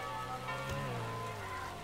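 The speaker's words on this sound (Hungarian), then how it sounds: "elkezdett szakadni a jégeső" Steady hail drumming across surfaces in the Emergency Hamburg video game, a dense continuous patter with a low hum underneath and no talk.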